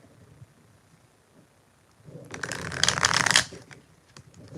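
Tarot cards shuffled by hand in a quick riffling burst of about a second, close and fairly loud, following a quiet stretch.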